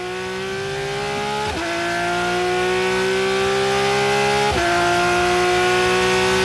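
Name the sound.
race car engine, on-board Veltins MRS car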